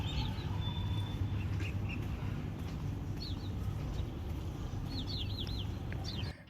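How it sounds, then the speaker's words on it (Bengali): Birds sing on a morning walk through a residential society: scattered faint chirps and short tweets float over a steady outdoor background hum, distant and soft. "তোমরা পাখির ডাক শোনো।"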